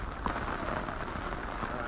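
Rain falling steadily at the Kaaba in Mecca, a dense even hiss of drops on hard surfaces, continuous and close, with nothing else standing out.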